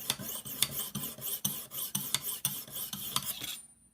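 A Rough Ryder knife blade is drawn across a Lansky sharpening system stone in about a dozen even, rasping strokes, each one crisp and close, stopping abruptly near the end.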